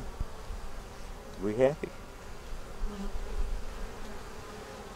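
Honey bees humming from an open hive during an inspection, a faint steady drone with a brief voice over it.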